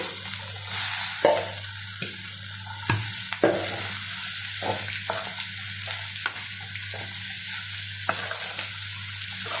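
Green gram (pesalu) fries in a pan with a steady, close sizzle, broken by occasional scraping stirs and small clatters of the spoon; no one speaks.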